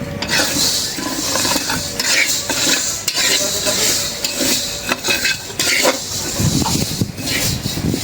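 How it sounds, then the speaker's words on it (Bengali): Mung dal dry-frying and being stirred in a pan for a home lunch, a steady sizzle with a scraping spoon and clinking cookware throughout, close and fairly loud, with no talking. "এখন ভাজতেছে মুগ ডাউল"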